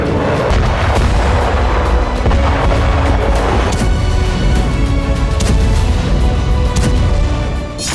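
Israeli air strikes in Syria come through as a dense, loud barrage of booming blasts and rumbling impacts, overlapping continuously with sharp cracks and no clear pauses.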